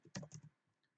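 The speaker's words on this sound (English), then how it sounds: "Keyboard." A short burst of a few quick computer keyboard keystrokes, close and quiet, clustered in the first half-second and then fading into near silence.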